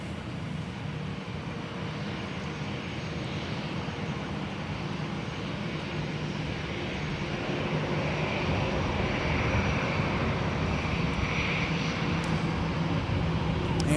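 An Airbus A319 airliner at Minneapolis–St. Paul Airport, its engines producing a steady broad roar that slowly swells louder as the jet nears, heard at a moderate distance with no speech.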